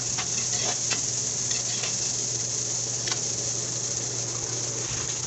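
Chopped onion sizzling steadily in a hot pan with ginger, stirred now and then with a few soft scrapes, close and continuous with no talk.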